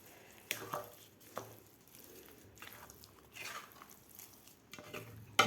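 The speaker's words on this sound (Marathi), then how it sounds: "आता आपल्याला 2 ते 3 मिनिट साखर घातल्यानंतर व्यवस्थित परतून घ्यायचं आहे." Carrot halwa with sugar stirred in a pan, giving quiet, intermittent scraping and soft squelching strokes of the spoon, with a few faint clinks against the metal.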